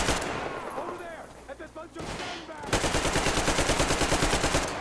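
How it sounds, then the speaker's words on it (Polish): Rapid automatic gunfire from the post-apocalyptic shooter game Metro Exodus, starting with scattered shots and engine-like rumble, then a loud sustained burst of evenly spaced rounds filling the second half. "strzelam wszędzie dookoła, tylko nie tam, gdzie powinienem"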